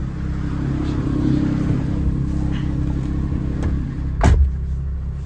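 A 1972 BMW Bavaria's engine idles after a cold start, a steady low rumble held close and fairly loud, with a brief sharper burst near the end.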